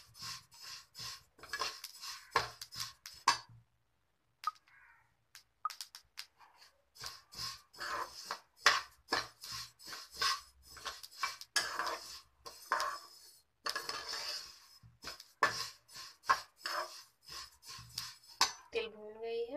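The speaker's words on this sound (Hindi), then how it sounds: "तिल को हल्का आंच में इसको भून लेंगे।" Black sesame seeds dry-roasted in a pan over low heat, stirred with a utensil that scrapes and rattles against the metal in steady, close strokes, with a brief pause partway through.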